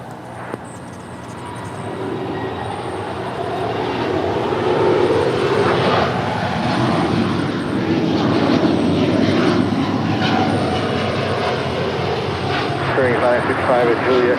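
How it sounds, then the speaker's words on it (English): A Boeing 787-8 Dreamliner airliner taking off at LAX, its engines building into a broad, rising roar that holds steady at a distance, while people talk nearby over the noise. "That is a Boeing 787-8 Dreamliner."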